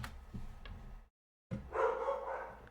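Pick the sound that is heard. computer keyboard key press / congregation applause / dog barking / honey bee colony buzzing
dog barking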